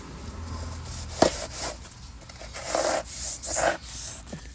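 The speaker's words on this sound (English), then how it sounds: "you want to clean it off where the brake shoes are going to go, brake pads." Rubbing and scraping strokes come from cleaning the brake hub surface where the pads and rotor will seat during a front and rear brake job. The close, uneven bursts include one sharp knock and then louder scrubbing passes.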